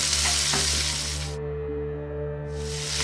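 Vegetables stir-fried over fairly lively heat, a loud continuous sizzle and hiss from the pan with faint scraping as the food is tossed, no voices.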